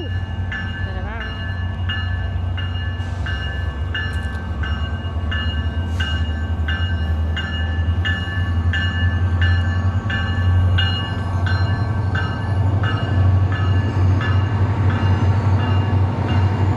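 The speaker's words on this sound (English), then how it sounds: "A double-decker train at that." A double-decker passenger train rolls past nearby in Winter Gardens, America, a loud continuous rumble with rhythmic clatter of wheels on rails lasting throughout, with people talking faintly underneath.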